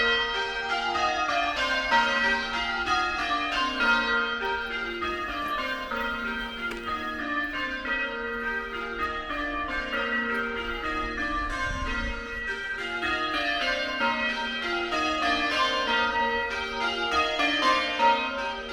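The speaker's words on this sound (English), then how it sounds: "I couldn't compete with the sound of the bells" Church bells peal continuously in a dense, overlapping ring, loud and steady throughout, drowning out an otherwise quiet, tranquil setting outside a church.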